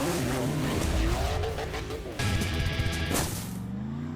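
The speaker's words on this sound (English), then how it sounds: "Here, it's all about sending it full throttle." A Suzuki 4x4 runs at full throttle over a timed section of an extreme off-road challenge. The engine roars loud and close, its pitch rising and falling, and the tyres scrabble and squeal in a short burst near the end.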